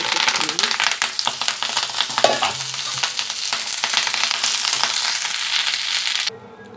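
Curry leaves fry in a pan with a steady, loud crackling sizzle and stirring scrapes throughout, then the sound drops away sharply near the end.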